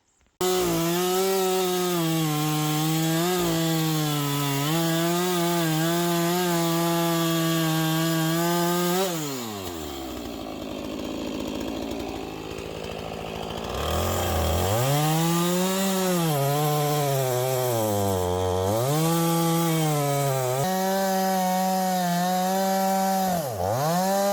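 Chainsaw trimming a fat pine lighterwood log for a fence post, engine loud and close, revving and bogging through cuts with a brief idle dip midway before roaring back up, steady throughout with no talk.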